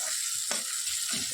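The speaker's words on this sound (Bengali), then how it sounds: "দিয়ে একটু ভালো করে কষিয়ে নিই" Spice paste with ginger and garlic fries in a pan for a fish curry, giving a steady close hiss with a few brief scrapes or stirs and no talk.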